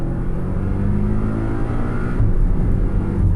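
A Porsche 718 Cayman S turbocharged engine drones loudly and steadily under acceleration from close by, a rich low rumble with a faint whine above, with a brief shift in tone near the end and no talk.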